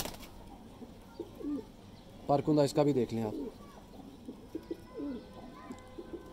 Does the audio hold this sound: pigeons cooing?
yes